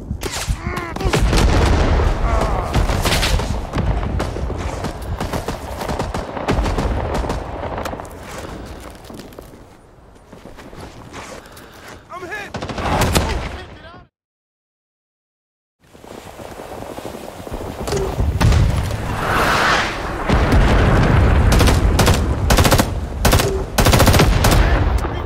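Gunfire in the video game Rising Storm 2, dense machine-gun bursts and scattered booms almost throughout, with a brief silent gap midway and a lull before it.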